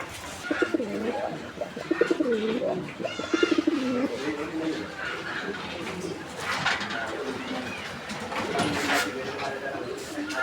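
A large Deshi Golla pigeon with a white breast coos in soft, repeated rolling calls, heard close while people talk over and between the coos.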